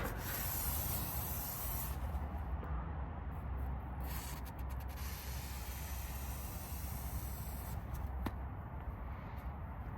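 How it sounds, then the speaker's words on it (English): Silicone spray hisses in a steady, close, continuous stream while fitting a cold air intake on a Ram 2500 6.4L truck, with brief breaks and light rubbing and handling noise throughout; no talk is heard. "Let me use some silicone."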